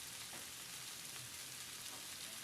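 Oil sizzling on a hot flat-top griddle during summer cooking, a steady close, quiet crackling hiss with faint pops and no talk.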